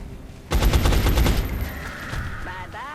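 Squad gunfire in the video game XCOM, a sudden dense burst of rapid shots starting after a brief quiet and fading into a ringing, echoing tail with a tonal whine near the end.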